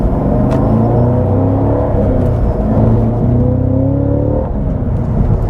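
A Cadillac CT5-V Blackwing accelerates hard through the gears on the road. The loud, close engine roar climbs steadily in pitch, eases briefly at a shift and then surges again, with a constant rumble underneath.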